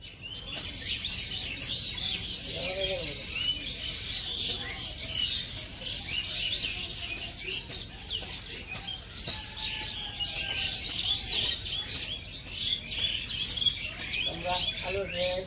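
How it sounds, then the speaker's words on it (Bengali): Myna birds squabble in a tree, with dense, continuous chirps and harsh calls close by over a steady outdoor background, and no clear talk. "গাছের মধ্যে এলো শালিক পাখি ঝগড়া করে বানছে"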